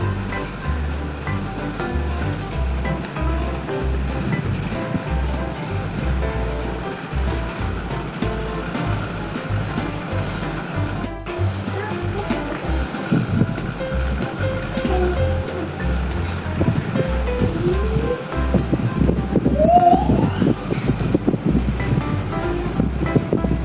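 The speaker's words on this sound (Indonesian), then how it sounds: "terlihat sekali ya kepala kipas angin Miyako dan Yasaka bergetar-getar" Miyako and Yasaka electric fans running and vibrating in a dark room: a loud, continuous whooshing drone with low rumbling pulses and rattling, close to the microphone throughout.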